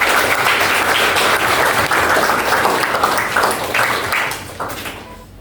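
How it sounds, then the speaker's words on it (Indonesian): An audience claps for Ibu Elis at a lesson study session at MAN 2 Tulungagung, a loud, dense burst of applause that holds steady and then fades out over the final second. "Boleh tepuk tangan sekali lagi untuk Ibu Elis."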